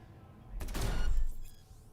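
Gunfire in Cyberpunk 2077 on a base Xbox One: a short burst of heavy shots about a second long, loud with a booming low end, then fading quickly into a quiet tail.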